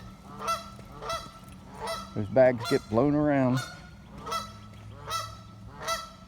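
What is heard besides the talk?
geese honking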